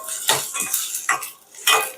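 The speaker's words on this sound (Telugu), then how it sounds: "అలానే దీంట్లో ఒక కప్పు ఆనియన్స్ కూడా వేసుకుందాం. ఇలా వేసుకున్నాక ఇలా ఫ్రై అయితే చేసుకోండి." Onions fry in a pan of hot oil with spices, stirred with a metal utensil that scrapes and clinks against the pan several times under a soft sizzle.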